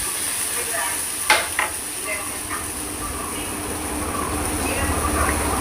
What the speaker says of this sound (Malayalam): അപ്പോൾ ഇടയ്ക്കൊന്ന് നല്ലോണം ഒന്ന് ചിക്കിയല്ല നല്ലോണം ഒന്ന് ഇളക്കി കൊടുക്കുക.